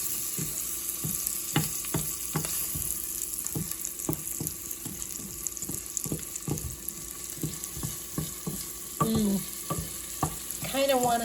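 Spoon stirring sugar into a browning, emulsified mixture in a pan for deep-dish pizza, with a steady sizzle of frying underneath and repeated scraping strokes, close and fairly loud, ending in a brief clatter.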